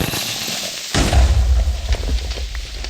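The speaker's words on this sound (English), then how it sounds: "That was a spectacular explosion." An explosion in a video game, a sudden loud boom followed by a rumbling low roar that decays over a couple of seconds.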